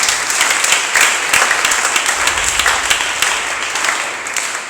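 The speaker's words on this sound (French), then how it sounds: "Est-ce qu'on peut acclamer pour la gloire de Jésus?" A church congregation applauding and cheering in praise, steady dense clapping with scattered shouts filling the whole stretch, loud and continuous without speech.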